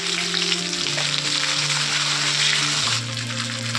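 Chopped onions sizzle and crackle steadily in hot oil for a Bengali bata fish curry, a close, continuous fry with no voices.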